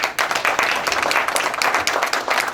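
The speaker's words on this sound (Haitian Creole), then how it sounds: "je demande un gros bravo pour Cassa Champette" An audience claps loudly and continuously for Cassa Champette at a tribute evening in Florida, a dense, close burst of applause lasting a couple of seconds with no one speaking over it.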